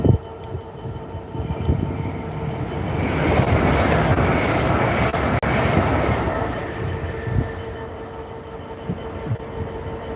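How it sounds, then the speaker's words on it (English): A blue express passenger train pulls into Peterborough station, a loud rumbling roar that swells, holds for several seconds and then eases off, with rail clatter and no talk. "We've now got an express train coming in blue."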